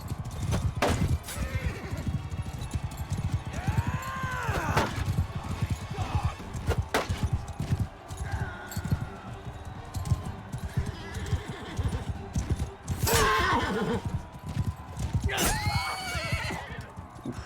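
Horses in the Mount and Blade Bannerlord video game whinny loudly several times over rapid galloping hoofbeats and the din of battle, with the neighs rising clearly above the clash around them.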